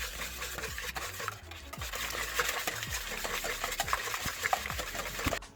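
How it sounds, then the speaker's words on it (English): Banana bread batter being stirred in a bowl, a steady run of close scraping and clinking spoon strokes on the bowl with a thick, wet texture and no voices. "Mix it together."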